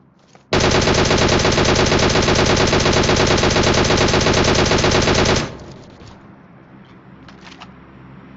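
Rapid, continuous automatic gunfire from a shooter video game, loud and dense for about five seconds before cutting off into quieter background game noise.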